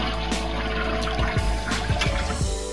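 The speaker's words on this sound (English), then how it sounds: "Flush the toilet." A household toilet flushing up close, a loud rushing swirl of water with gurgling pulses and draining gulps running steadily throughout, no talking over it.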